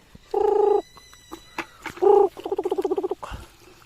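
Short, harmonic squeals of native pigs come in bursts close by, including one rapid pulsing run, with brief quiet gaps and small noises between them.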